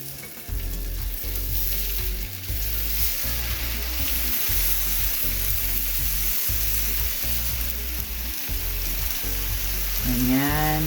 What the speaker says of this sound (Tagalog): ito kumukulo na yung natin po, tubig natin